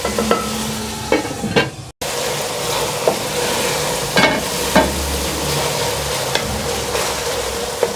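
Tomatoes and chicken cooking with spices in a pan, giving a close, continuous sizzle broken by occasional utensil clinks and a brief gap of silence early on.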